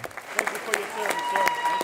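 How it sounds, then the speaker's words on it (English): Scattered applause for World War II veterans at a memorial welcome in Northeast Wisconsin: a few people clap in loose, uneven bursts, fairly close, with a faint murmur of crowd behind. "For many, that's just the sound of people clapping."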